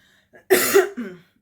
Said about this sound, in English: Apologies for all my coughing.